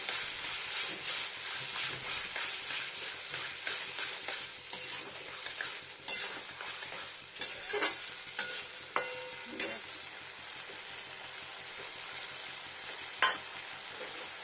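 Pointed gourd curry cooked with little oil and spice, stirred in a frying pan: a soft continuous sizzle with scattered scrapes and sharp clinks of the spoon against the pan, sounding close and fairly quiet.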